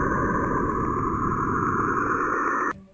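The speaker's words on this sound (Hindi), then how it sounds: "सैटर्न की आवाज शुरुआत में तो काफी बांसुरी की कोमल गुनगुनाहट जैसी लगती है।" Radio emissions from Saturn, recorded by the Cassini spacecraft and converted to sound, form a steady, soft flute-like hum with layered tones. It holds evenly for nearly three seconds, then cuts off abruptly.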